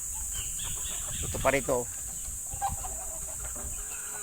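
Kelso gamecocks clucking in short bursts at a backyard farm, faint and close, while someone talks nearby.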